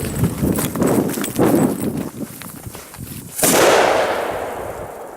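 A Pol-Expance Achtung H1 firecracker explodes inside styrofoam. Rough clattering bursts come first, then one loud, sharp blast about midway, followed by a fading hiss of debris.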